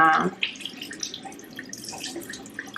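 Warm water runs from a tap for washing the face, a soft, steady splashing stream with small drips and hand movements, close by and fairly quiet.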